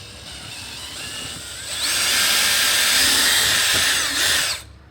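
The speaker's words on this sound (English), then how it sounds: "I like to drill 1 hole." A power drill with a 1/4 inch bit drills a hole in an ATV rear fender, whirring steadily at close range, starting after a quiet lead-in, holding a loud high whine for a couple of seconds, then spinning down.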